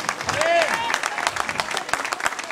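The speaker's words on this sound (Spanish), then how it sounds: "Vamos a dar un fuerte aplauso, Padre Adán." Congregation at a church retreat applauding a priest, dense clapping from a crowd with some voices heard over it, steady throughout.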